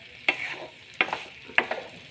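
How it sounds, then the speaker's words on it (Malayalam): Three sharp scraping stirs of mango pickle in a hot pan land about half a second apart, each followed by a brief sizzle, close up with no voices. "മാങ്ങ ഇട്ടതിന് ശേഷം നന്നായി ഇളക്കി ചേർത്ത് കൊടുക്കുക"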